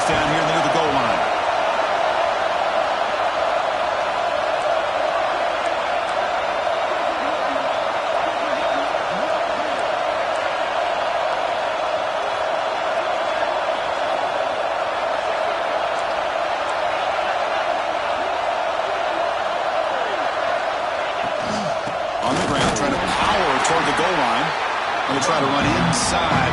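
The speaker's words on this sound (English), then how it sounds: "this big crowd doing everything possible to inspire this defense down here near the goal line" A big stadium crowd roars steadily through a college football game as the defense holds near the goal line, a dense continuous wall of cheering that swells louder near the end.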